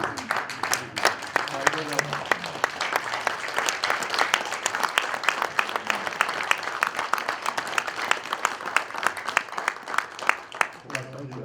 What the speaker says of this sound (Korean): 또 큰 박수를 이번에 기립박수